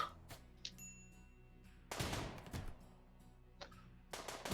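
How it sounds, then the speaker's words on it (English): Gunfire from the colony-sim game Rimworld: a few sharp distant-sounding shots and short bursts in separate clusters, spaced over a quiet hum. "Still hear gunshots."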